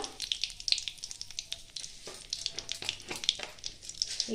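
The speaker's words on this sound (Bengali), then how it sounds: "এবার কড়াই দিয়ে দেবো আমি এই তেলের মধ্যেই একটা শুকনো লঙ্কা দুটো তেজপাতা" Dry red chili and bay leaves frying in hot oil in a wok: a steady, crackling sizzle with small pops and spits, fairly soft and close, with no talk over it.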